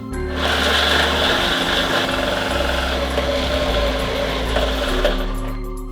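Electric food processor grating carrots for Nigerian-style coleslaw, a steady loud motor whir with a grinding buzz running continuously for about five seconds, then winding down at the end.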